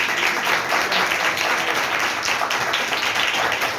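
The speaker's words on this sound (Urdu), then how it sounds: "اگر خوش ہیں تو خدا کے جلال کے لیے زوردار تالی بجائیے" Loud, dense clapping from a church congregation during a Urdu-language sermon, a steady roar of many hands sustained throughout with no speech over it.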